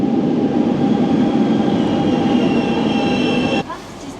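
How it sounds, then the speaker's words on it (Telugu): A train rumbles steadily on the rails with a high metallic whine, loud and close, before the noise suddenly drops near the end. "అదిగో మన చుక్చుక్కు బండి వచ్చేసింది."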